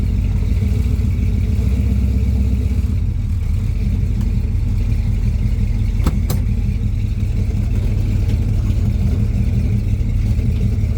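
A 1966 Ford Fairlane 500 with a 429 engine idles and creeps while being parked, its deep rumbling exhaust steady and close throughout, with a couple of brief sharp clicks near the middle.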